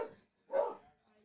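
An old, stubborn dog named Roscoe barks twice in a row indoors, one bark and then a louder second, fairly close by with a faint murmur after.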